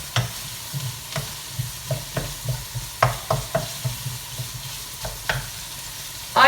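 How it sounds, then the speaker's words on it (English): Pumpkin and bacon pasta is stirred continuously in a frying pan. Rhythmic scraping strokes repeat about every half second over a low, steady sizzle. "We need to continuously stir this or it will just stick as well."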